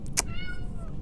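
A house cat named Gus meows once, a clear drawn-out call near the microphone with a short sharp onset, heard alone in a quiet craft room.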